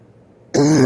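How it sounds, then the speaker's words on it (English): After near silence, one loud, close, raspy cough bursts out suddenly and holds briefly, rough and throaty like seasonal allergies clearing the chest. "My cough ain't that bad."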